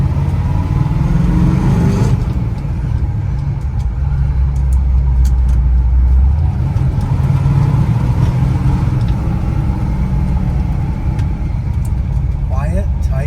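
A 1963 Ford Galaxie 500 with a 427 R-Code dual-quad V8 and 4-speed runs steadily outside, a deep continuous engine rumble heard throughout, with voices talking over it.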